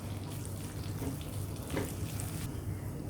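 Kasuri methi roasts in a pan on a low flame, giving a soft, steady sizzle and hiss with faint scraping from stirring.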